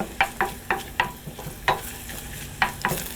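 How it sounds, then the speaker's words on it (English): Onions cooking in a pan over medium heat, with a series of distinct scraping and stirring strokes over a faint sizzle, spaced roughly every half second, close and moderately loud. "My onions have been cooking in there now for 5 minutes."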